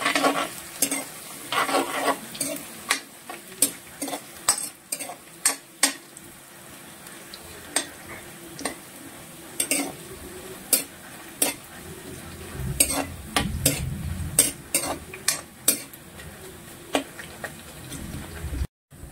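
Onions and green chillies are stirred and fried in a pan for a kakka fry, with a soft continuous sizzle under repeated sharp scrapes and taps of a spoon against the pan.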